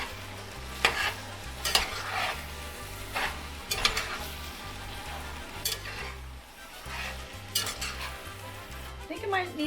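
Taco meat fries in a pan with a low sizzle while a utensil stirs and scrapes in irregular strokes, and a steady background hum with a pulsing low tone runs underneath throughout.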